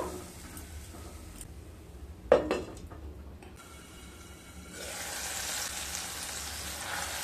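Spice masala sautés in a pan over a medium flame. A quiet crackle is broken by a single metallic clank, and the sizzle then swells louder and steadier.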